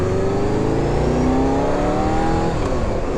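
A Honda CBR600F motorcycle engine with just under 34,000 miles revs up close and loud. Its rising, whining tone climbs steadily over a constant rumbling drone, with no voices.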